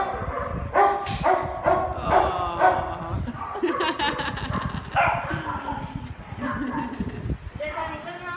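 A big puppy yips and barks in short bursts up close, with whimpers mixed in, while people talk over and around the dog.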